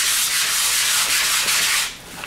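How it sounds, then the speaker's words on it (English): Loud, continuous scratchy abrasion as a surface is hand sanded vigorously up close, easing off just before the end. "begin by vigorously abrading the surface"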